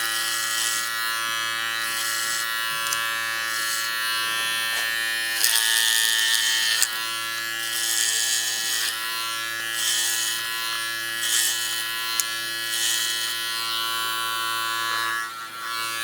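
An electric hair clipper buzzes steadily and loudly up close, its motor whine holding constant throughout as it feeds through long hair during a haircut, with slight changes in tone as the blades bite.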